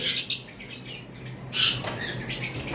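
Pet birds in a bird shop give repeated squawks and shrill chirps, near and fairly loud, against a busy background of chatter from the flock.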